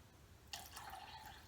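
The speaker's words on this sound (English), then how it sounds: "So take this distilled warm water" Distilled warm water is poured, starting abruptly with a steady, close trickling flow that keeps running to the end, with no talking.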